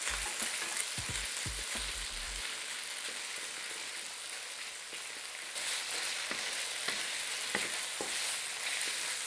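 Meat and doubanjiang frying in a hot wok, a steady loud sizzle throughout with scraping stirring strokes and clacks of a utensil against the pan, and no voices.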